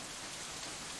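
Rain falls in a scene from the visual novel Katawa Shoujo during a cold, wet picnic, a steady, dense hiss of raindrops that stays constant and fairly soft throughout, with no voices.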